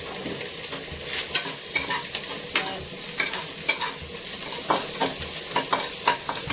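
Small prawns fry in a pan at home, with a steady sizzle and repeated scraping stir strokes of a utensil against the pan, close up and without talk.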